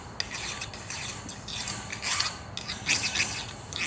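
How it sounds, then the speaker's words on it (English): A file shaving down the nubs on soft metal wire plant support cages makes a steady run of scratchy rasping strokes, close by and continuous, with no talking. "it really doesn't take long to shave these big nubs down, right?"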